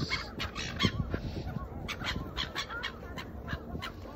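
Seagulls at Takeshima island in Gamagori, Aichi, call in short, scattered squawks, some close and some farther off, over a soft outdoor background.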